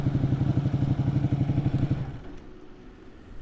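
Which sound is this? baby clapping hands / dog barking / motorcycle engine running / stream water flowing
motorcycle engine running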